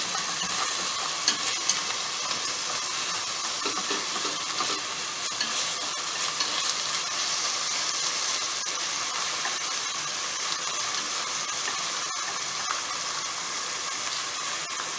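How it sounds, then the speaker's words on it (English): Steady, loud sizzling of pork chops frying in a hot pan, a continuous hiss with occasional crackles and light scraping. "When you hear the sizzling sound,"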